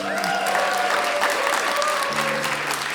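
A crowd of wedding guests claps loudly and steadily at a reception, with cheering voices and music mixed in.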